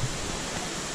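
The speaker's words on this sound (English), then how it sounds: "So this is now the waterfall part." A waterfall in the Blue Mountains gives a steady, rushing roar, even and dense, heard for a brief moment with no voices.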